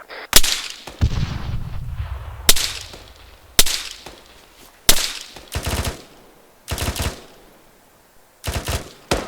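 Heavy gunfire incoming on a team's position during an attack/defense drill: repeated sharp, loud bursts and single cracks at irregular intervals, some rapid machine-gun-like strings, with echoing tails and no talking.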